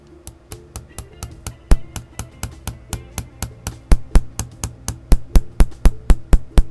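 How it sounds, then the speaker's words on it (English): Rapid, evenly spaced light hammer taps on a metal roller table, about thirty sharp ringing strikes that grow slightly louder and quicker as they go, close and distinct. "got a hammer here and the end, and I'm just going to tap it lightly"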